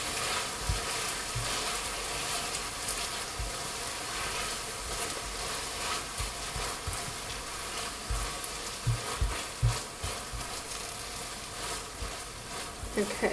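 Tomatoes sizzle loudly in a pan over high heat for spaghetti al pomodoro, a continuous frying hiss broken by repeated knocks and scrapes of stirring.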